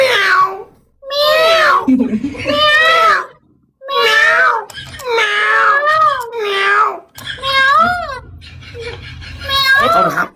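A human voice imitating a cat's meow, repeating whiny, drawn-out meows in a near-continuous string, loud and close.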